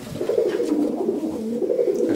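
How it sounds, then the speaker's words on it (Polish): A large racing pigeon coos steadily at a breeder's loft, its soft, low, throaty warble rolling continuously and close by, with no talking over it. "Duży, tak, bardzo duży gołąb."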